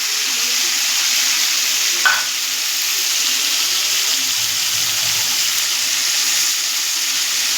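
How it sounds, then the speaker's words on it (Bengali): Chicken mince sizzling steadily in hot oil, a bright continuous frying hiss with a small clatter near two seconds, close and fairly loud, no voices. "এবার এদিকে তেল গরম হয়ে গেছে, তেলের মধ্যে আমি মাংসগুলো দিয়ে দেবো।"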